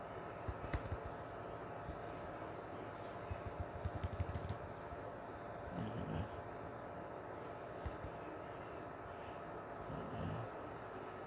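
Faint clicking from a computer keyboard comes in small bursts of keystrokes over a low, steady background hum during a podcast session, quiet and somewhat distant.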